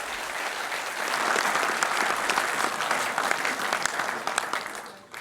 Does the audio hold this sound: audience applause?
yes